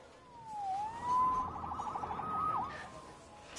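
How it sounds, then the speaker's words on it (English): A siren in an animated Spider-Man episode wails with rising and falling electronic sweeps and a quick warbling burst, moderately loud and alone, no speech. "Saved by the siren."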